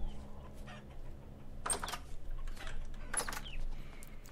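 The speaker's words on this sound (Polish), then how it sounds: "Kura generacji pierwszej." Chickens in the video game Vintage Story cluck in a few short, close bursts over a quiet background hum, with no talking.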